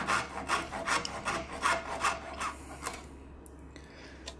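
A hand tool rasps along the edges of a wooden toy mallet to deburr and chamfer it. Rhythmic close filing strokes come about twice a second and fade into quiet near the end, with no speech.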